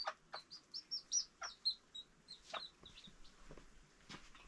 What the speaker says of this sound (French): ma poule est là avec les poussins